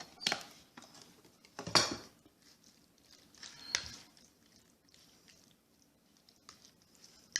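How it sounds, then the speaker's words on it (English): A utensil stirs Fettuccine Alfredo sauce in a pan, giving soft scraping and a few sharper clinks against the pan, faint and irregular, with no talking. "Just keep stirring that around to get everything all mixed really well."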